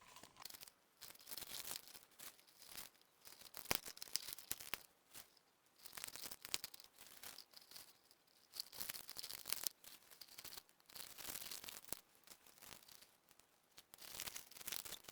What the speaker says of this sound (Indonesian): di sini saya akan menutup masing-masing cup gelas reaksi dengan plastik.